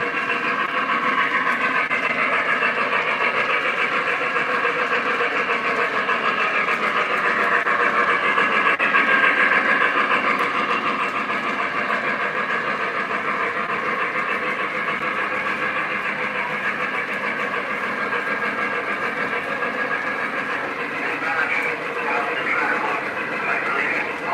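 MTH model train system starting up and running on a layout, a continuous mechanical hum and whir with faint rail clatter that swells slightly, then steadies.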